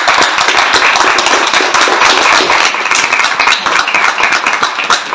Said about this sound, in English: can we have a round of applause for people organising?